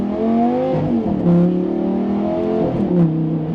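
A rear-wheel-drive Lamborghini Gallardo engine revs and roars with a throaty exhaust, pitch rising and falling in sustained sweeps, loud and close throughout.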